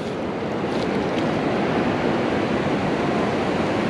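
Ocean surf washing up the sand at Huntington Beach, California, a dense continuous rush of water with wind noise, loud and close, no voices.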